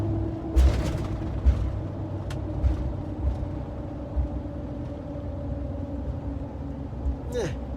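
Car on Federal Xplora M/T mud-terrain tires coasting at about 60 mph with the throttle off, a low, steady tire hum and road rumble inside the cabin with light thumps over bumps.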